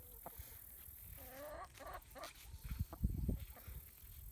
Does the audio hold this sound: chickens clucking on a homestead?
yes